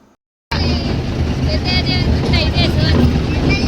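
After a brief silent start, a tractor's loud continuous engine rumble with rushing noise fills the scene as it drives through rain, steady and close.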